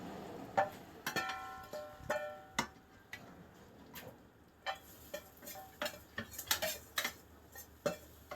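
A spoon stirs a lemon rice mixture into white rice in a pan, making soft irregular scrapes and light metallic clinks, close and quiet.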